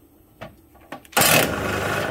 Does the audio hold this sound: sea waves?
no